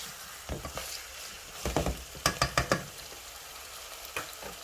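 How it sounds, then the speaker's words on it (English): Onions sizzle steadily in a hot pan while a utensil scrapes and knocks against it in a few quick strokes. "while the onions are frying"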